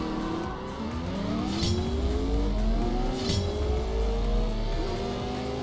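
A McLaren P1 GTR racing engine in the CSR Racing 2 video game revs up through repeated rising gear sweeps, loud and close, with faint tire squeal, sustained for the whole stretch.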